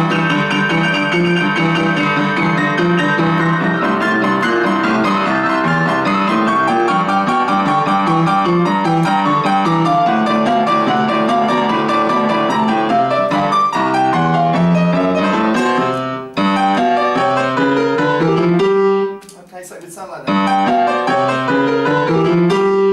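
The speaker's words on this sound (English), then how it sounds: "it would sound like this in a rock and roll song" Two-handed rock and roll piano ending riff, a busy driving pattern with rolling bass under bright chords, loud and continuous, with a brief break near the end before a final flourish.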